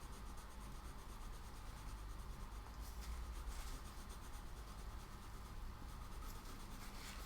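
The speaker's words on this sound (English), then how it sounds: "Burnishing is better on this smooth paper." Colored pencil burnishes smooth drawing paper of a bell pepper in close, quiet strokes, a soft continuous rubbing scratch with no talk.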